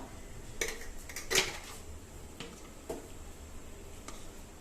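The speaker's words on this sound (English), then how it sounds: "Just stir it once." A boiling pot of Rajasthani gatte ki sabji curry with garam masala is stirred once, producing a few quiet metallic clinks of a spoon against the pot over a faint background.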